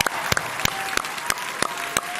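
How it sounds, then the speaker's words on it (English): Applause at a high school football awards gala honoring the first team defense, with a crowd clapping continuously and loud individual claps popping out at a fairly regular pace. "how about a round of applause for the first team defense?"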